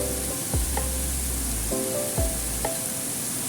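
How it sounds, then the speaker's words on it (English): Carrot and mushroom slices stir-fry in oil in a hot pan, a steady close sizzle broken by a few sharp scrapes and clacks of a spatula stirring, with no talking. "Then add in carrot and the mushroom slices. Stir to mix everything."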